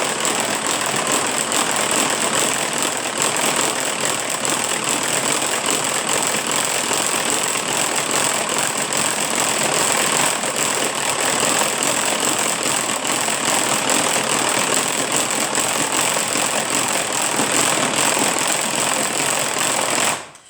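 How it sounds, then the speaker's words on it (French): A manual rotary egg beater whips egg whites for waffle batter with a steady, loud, continuous whirring churn that runs unbroken for about twenty seconds with no one speaking. "C'est un batteur manuel."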